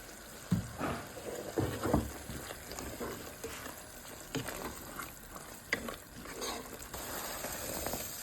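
A spoon stirs cheese kottu with roti as it fries in a pan, giving a steady low sizzle broken by irregular scraping knocks throughout.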